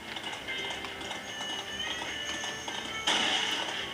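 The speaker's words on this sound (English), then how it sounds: "The horses are hard to see when you're going through the track." Horse hooves clip-clop steadily in the Disney Infinity video game, a brisk rhythmic patter under game music and ambience, growing brighter and louder near the end.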